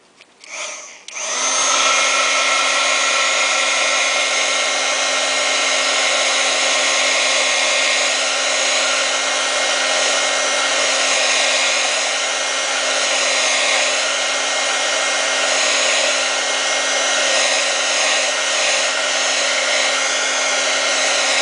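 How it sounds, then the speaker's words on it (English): An embossing heat gun dries a steampunk craft tag, blowing a loud, steady whirring roar with a constant high whine that starts after a brief click and runs on without a break. "You just get your handy embossing gun."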